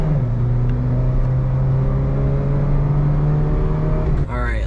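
A car engine pulls hard on a back road, a steady loud drone rising slowly in pitch from inside the cabin before easing off near the end, with a voice briefly present.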